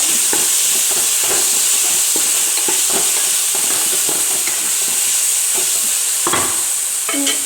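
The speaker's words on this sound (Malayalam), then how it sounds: "ശേഷം നന്നായി ഇളക്കി കൊടുക്കാം" A spoon stirs chicken gravy masala, just salted, in a hot pan: steady scraping strokes over a continuous sizzle and hiss, close and fairly loud.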